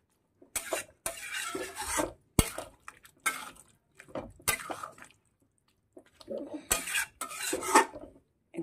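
Spoon clattering and scraping against a metal pan while mixed vegetable curry with garam masala is stirred, in bursts of clinks and scrapes with short pauses between them, fairly close.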